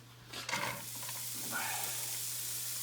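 Onion frying with a little fat in a pan while cooking macaroni and cheese, a steady close sizzle with a couple of stirring scrapes near the start.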